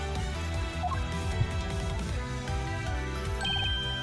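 A ringtone from a mobile phone plays out as a melodic electronic tune during an Ace Attorney Investigations courtroom scene, steady and fairly loud with no one speaking.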